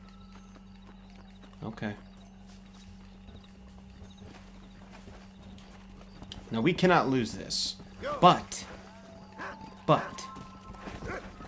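Horse hooves clip-clop in the Red Dead Redemption video game during a horse race, a few short bursts of hoofbeats under talking, mixed with occasional whinnies.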